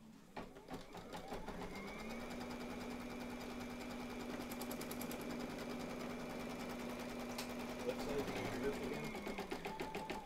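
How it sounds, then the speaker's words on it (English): An embroidery machine stitches an outline in purple thread in an in-the-hoop project, a fast steady mechanical whir with rapid needle clatter that runs continuously for about ten seconds and is close and even in level. "I'm going to stitch the outside in purple"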